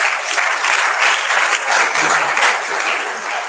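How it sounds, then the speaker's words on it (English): Full, continuous applause from a university audience for the joint chancellor, loud and even with slight swells, and only a faint voice underneath. "So can we give him another round of applause?"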